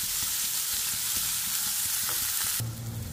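Mixed vegetables fry over medium flame in a pan for vermicelli, a continuous close sizzle broken by occasional stirring scrapes and a sharp knock near the end.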